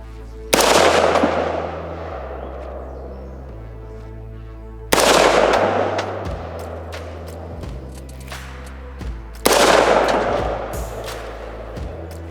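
Three loud, close gunshots, spaced about four seconds apart, fired at targets in a bow-versus-gun shooting challenge. Each crack trails off in a long echoing decay.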